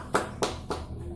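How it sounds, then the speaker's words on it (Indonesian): Three separate hand claps in a classroom lesson, evenly spaced about a quarter second apart, close and moderately loud, sounding like a short round of applause for a student in a small class. "Mari kita beri tepuk tangan untuk Mbak Rahel dan untuk kita semua."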